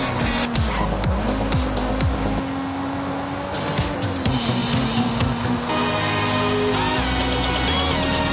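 A racing car engine revs and whines while tires squeal in long skids in the video game Forza Horizon 5, loud and continuous, with electronic game-style audio.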